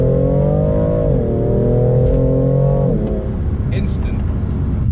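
A BMW M4 Competition accelerating hard, its engine note climbing and then dropping with quick gear shifts, loud and close from inside the car, while a person talks over it.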